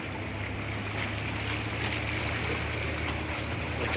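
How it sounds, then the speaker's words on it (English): High-tide waves slosh and splash inside a rock jetty, a continuous hollow, echoey wash with a low rumble, steady and close, with no voices. "a flush, like a porta potty tank. Echoey, splashy. This is some waves."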